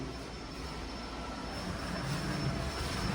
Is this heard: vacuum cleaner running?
yes